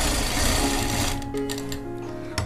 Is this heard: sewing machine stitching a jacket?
yes